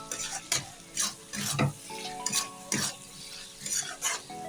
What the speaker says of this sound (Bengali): হলুদ গুঁড়ো আর ভাজা মশলাটা দিয়ে আমি ভালো করে একটু মেরে চেড়ে দিচ্ছি